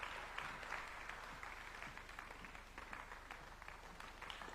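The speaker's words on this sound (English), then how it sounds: "let's put another warm clap for His Excellency" Audience applause at the Second Africa Urban Forum at KICC, honouring President Ruto: a steady, dense wash of many hands clapping, with no voices over it, sustained evenly for the full few seconds.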